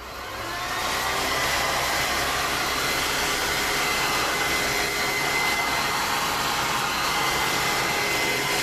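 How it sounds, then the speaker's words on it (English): A blow dryer switches on and runs with a steady, loud whooshing hum, continuous and close without any talking, drying paint. "I am going to use my blow dryer for just a second, just to double check."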